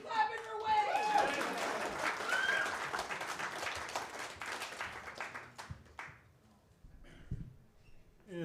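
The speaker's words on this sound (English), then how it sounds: "Keep clapping for Wade." Applause from a comedy club audience for the comic continues under a host's amplified voice, a dense spread of clapping that tapers off toward the end as speaking takes over.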